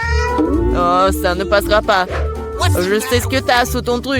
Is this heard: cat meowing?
yes